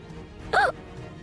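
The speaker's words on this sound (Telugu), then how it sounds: "ఎందుకో ఎక్కిళ్ళు వస్తున్నాయండి." A single sharp hiccup from a person, close and fairly loud, about half a second long over a quiet indoor background.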